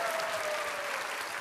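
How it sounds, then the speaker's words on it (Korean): An audience at a city-planning talk concert applauds steadily to welcome a speaker to the stage, a dense, even clapping from many hands throughout, moderately loud and without any voices over it. "여러분 큰 박수로 맞이해 주십시오"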